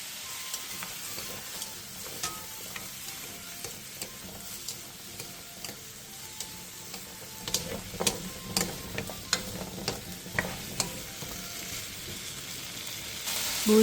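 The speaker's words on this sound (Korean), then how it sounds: "그 다음 감자와 당근, 소금 1티스푼을 넣고 센 불에서 2-3분간 볶아주세요." Potato and carrot pieces stir-fry over high heat in a pan with oil and salt, giving a faint, steady sizzle broken by scattered utensil clicks and scrapes that grow busier toward the end.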